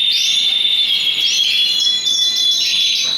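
A male canary at a breeders' show sings a bright, high, continuous warbling trill, loud and close, with no talking.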